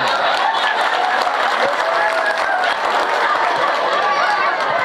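A crowd at a tabligh akbar religious gathering in Gundaling, Bagan Batu, applauds loudly and continuously, with dense clapping and background crowd chatter mixed in.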